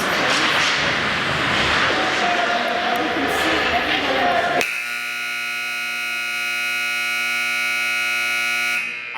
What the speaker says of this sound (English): I think they could turn the buzzer down like about 50. I think that's a little loud.